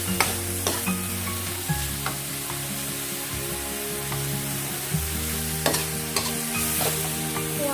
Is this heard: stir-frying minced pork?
yes